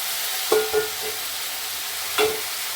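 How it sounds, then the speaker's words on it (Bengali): Peas and peanuts fry in a hot wok with potatoes and salt, giving a steady background sizzle broken by two or three louder scraping stirs of a spoon against the pan. "দেখো কড়াই ছুটি আর বাদাম দিয়ে দিলাম"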